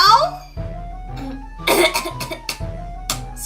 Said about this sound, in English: I'm trying to clear my throat gracefully, it's not working.